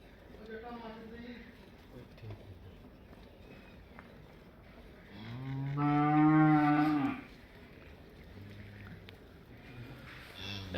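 Cholistani Friesian cross cows on a farm give a loud, drawn-out moo midway, with softer lows before and after and people talking quietly in the background.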